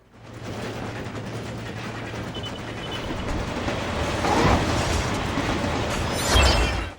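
Steady rumbling rattle of a moving train in the video game 007: Everything or Nothing, a continuous low clatter that swells slightly toward the end, with no talking.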